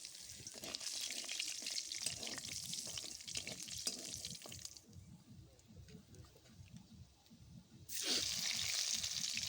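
Bay leaf, dried chilli and whole cumin frying in hot oil give a steady close sizzle with crackles and stirring scrapes; the sizzle dips midway, then flares louder again.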